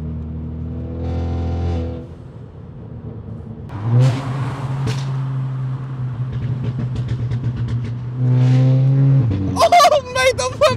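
A Volkswagen Scirocco pulls hard on a motorway, its engine note droning steadily and rising in pitch through the gears at close range, with people talking over it and a sharp burst near the end.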